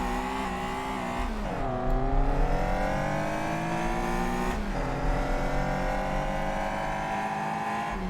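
A Caterham Super7 1700 in a racing game at Vallelunga, its engine rising steadily in pitch through hard acceleration and dropping briefly at each gear change before climbing again, loud and continuous without any talk.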